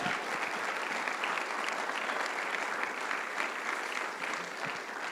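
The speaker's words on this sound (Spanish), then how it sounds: "Dele un aplauso al Señor," Sustained applause from a large church congregation fills the space, a dense steady patter of clapping hands that holds evenly throughout.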